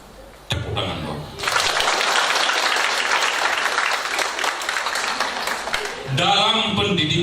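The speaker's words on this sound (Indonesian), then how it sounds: "Tepuk tangan dong." An audience at a university graduation ceremony breaks into loud, sustained applause, dense clapping that runs for several seconds before a voice comes back over it.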